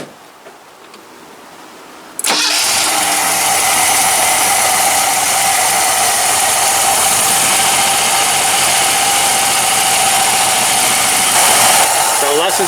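A 1982 Ford Capri MKIII engine catches after a quiet pause, then settles into a loud, steady idle as it warms up, holding an even, unbroken rumble close by.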